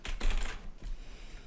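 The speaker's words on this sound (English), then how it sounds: "It's decently clicky, the keyboard. You know, you can definitely feel that it is a membrane, but it has the satisfying click of a mechanical." Typing on a Razer membrane keyboard with clicky, mechanical-style keys: a quick cluster of close, crisp key clicks followed by a couple of softer taps, lasting little more than a second.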